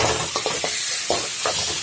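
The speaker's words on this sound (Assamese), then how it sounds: "দি পেলাই আমি এইখিনি অলপ লৰাই দিম।" Boiled potatoes and eggs being stirred in a sizzling pan for an Assamese egg curry, with several scraping strokes of a spoon over a steady frying hiss.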